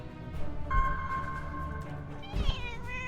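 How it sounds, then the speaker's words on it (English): A cat meows near the microphone, first a long, drawn-out call and then a shorter, rising meow, both close and clear over a faint room hum. "You guys can hear the cat if I get the mic close enough."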